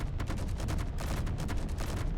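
A small stub-wing fighter ship in a video game fires rapid bursts of gunfire. The shots come as quick, regular pulses that run continuously and sound loud and close.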